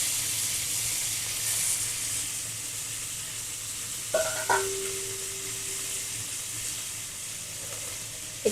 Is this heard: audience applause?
no